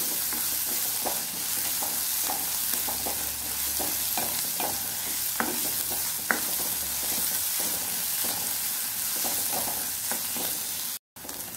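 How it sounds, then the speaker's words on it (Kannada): Onions and vegetables such as beans sizzle steadily in a pan for hotel-style khara bath, with scattered sharp clicks and scrapes of a stirring spoon over the constant hiss and a brief dropout near the end. "ಇದನ್ನು ಸ್ವಲ್ಪ ಫ್ರೈ ಮಾಡ್ಕೊಳ್ಳಿ. ಒಳ್ಳೆ ಫ್ರೈ ಆಗಲಿ."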